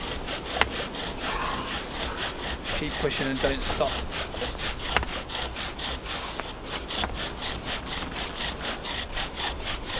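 Steady back-and-forth rasping of a bow drill's wood rubbing against wood, rhythmic and close, while a voice speaks briefly over it.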